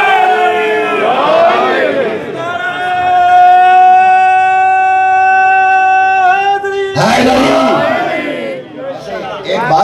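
A crowd at a religious majlis in Chichawatni shouts slogans together in loud, sustained chanted calls, bursting out, holding long unified notes, then erupting again.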